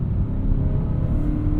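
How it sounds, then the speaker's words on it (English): Toyota 86 engine pulling hard after a downshift, a steady loud rasping drone that holds constant throughout, close up with no talking. "Drop the gear, and then it takes off."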